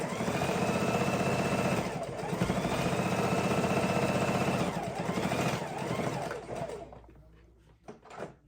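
A sewing machine stitches fabric for a soup bowl cozy in loud, close runs of steady whirring, briefly pausing and restarting, then stopping near the end with a few clicks.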